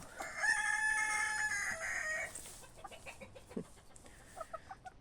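A rooster crows loudly in one long call, followed by scattered clucks and softer fowl sounds nearby.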